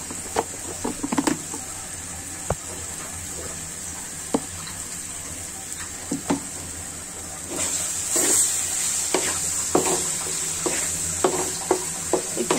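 Raw jackfruit fries with chili powder in a pan, a steady sizzle broken by sharp clicks and scrapes of a spoon stirring against the metal, close up and with no talking.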